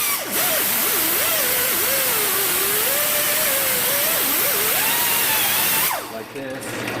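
A small hand grinding tool whines loudly and continuously against a machined brake rotor on a 2008 Ford Expedition, its pitch wavering as the pressure changes, then cutting off near the end.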